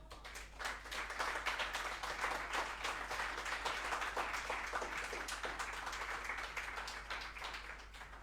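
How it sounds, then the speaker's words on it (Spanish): A church congregation applauds during a pastor's anniversary service, a steady, fairly faint wash of clapping that swells after the first second and holds evenly to the end over a low constant hum. "Den un aplauso a Cristo"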